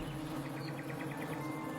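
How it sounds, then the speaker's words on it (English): Bees buzz steadily in winter, a continuous close drone with layered humming tones that holds without a break. "Let's focus on the buzzing of these bees for a sec."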